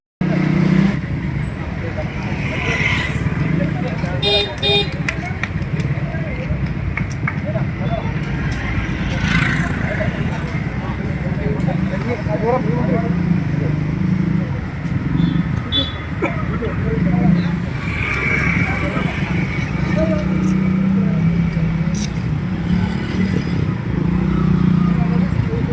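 Motorcycles in a bike rally at Iritty roar together in a steady, dense engine drone for the whole stretch, with crowd voices mixed in.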